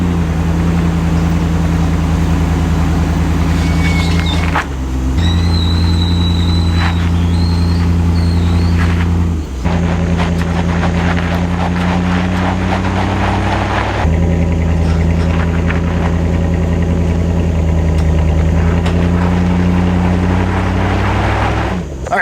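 A Land Rover LR4 engine idles and labours as the truck creeps forward on a cross-country trip, with a steady droning hum that shifts pitch several times and a few brief dips and clunks.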